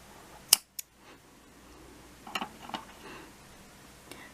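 Scissors snip through the short end of crochet yarn, one crisp close cut followed by a second smaller click, then faint handling noises.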